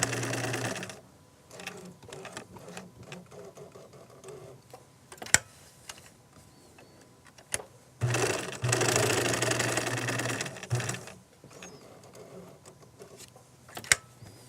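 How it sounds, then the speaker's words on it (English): A sewing machine stitches in short, intermittent bursts, straight stitching and then back stitching, with close mechanical whirring runs separated by pauses and sharp clicks as the fabric is turned and repositioned. "I'm going to straight stitch to the end, and I'm going to back stitch"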